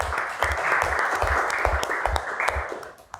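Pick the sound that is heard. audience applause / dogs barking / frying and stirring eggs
audience applause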